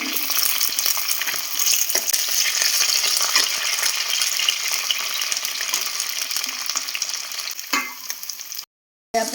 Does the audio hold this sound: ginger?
yes